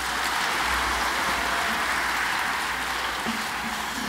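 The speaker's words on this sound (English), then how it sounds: "Penguin, should we give them a round of applause?" An audience at a children's book event for Jeff Kinney applauds the publisher Penguin, a steady, dense wash of clapping that fills the room for several seconds without letting up.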